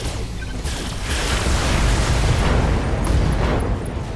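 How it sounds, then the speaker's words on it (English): An ammunition explosion on a mech in the BattleTech video game: a loud, sustained booming rumble with crackling bursts that rolls on heavily for several seconds, with no talk. "Kill confirmed, Commander. And ammo explosion."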